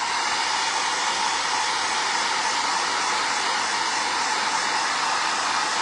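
A hair dryer blows steadily to dry paint on a smashed can craft project, a loud, constant whirring hiss held without a break and with no voices.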